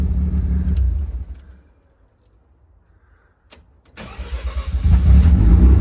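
A warm Mazda RX-7 FD rotary engine cranks and catches. Loud engine noise drops to near silence, then a sharp crack of a backfire sounds and the engine roars back up to a heavy, rough idle.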